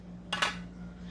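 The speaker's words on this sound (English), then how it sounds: "We won't need a 1/4 teaspoon again, so I'm just gonna put it in the sink." A quarter teaspoon clatters into a kitchen sink in two quick metallic clinks, faint and close over a steady low hum.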